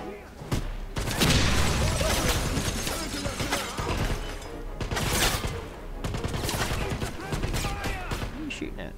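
Gunfire in the video game Wolfenstein comes in loud, dense bursts separated by short gaps, mixed with crashing, shattering impacts and booms.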